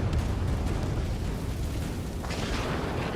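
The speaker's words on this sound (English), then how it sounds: "Cyclops 1, missile!" A missile explosion in the flight combat game Ace Combat 7: Skies Unknown, a loud sustained rumbling blast that fills the whole clip, with a second surge of burst noise near the end.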